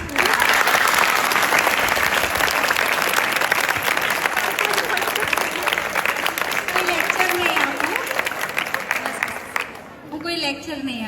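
An audience at a talk bursts into sustained, dense clapping that fills most of the clip before thinning out near the end.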